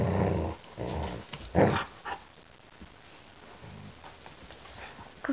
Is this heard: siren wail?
no